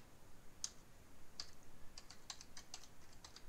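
Someone types a short entry on a computer keyboard in the Arma 3 Eden Editor: a few faint, sparse key clicks over a steady background hiss, quickening toward the end.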